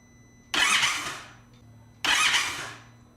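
An Indian Chief motorcycle engine is cranked twice, each a short burst of around a second that fades away without settling into a steady idle, close and fairly loud against a quiet background.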